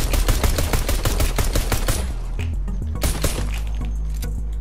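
Blue pistol in Fortnite firing a rapid burst of loud, close shots for about two seconds, then a few scattered single shots over a low rumble.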